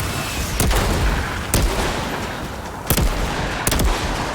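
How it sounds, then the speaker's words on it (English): An elephant gun in the video game Outriders fires four heavy, booming shots at irregular intervals, each a sharp loud blast with a brief decay, over a steady background of game ambience. "See what this elephant gun does."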